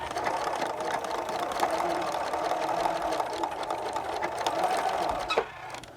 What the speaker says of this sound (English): I'm going to sew a scant 1/4 inch seam on it.